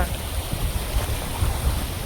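Flood water rushes onto a farm in a continuous, churning roar with a deep low rumble underneath.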